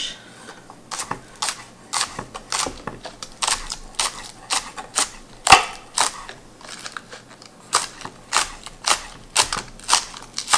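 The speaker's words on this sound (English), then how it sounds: "I'm just going to slice them, oh, I don't know, maybe 1/4 inch." Knife slicing green onions on a cutting board, a steady run of sharp, crisp chops in an uneven rhythm, close and fairly loud with no talking.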